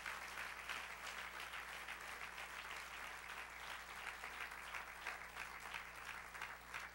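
Congregation applauding in a church, a steady dense wash of clapping that carries on evenly throughout, with a low constant hum beneath it.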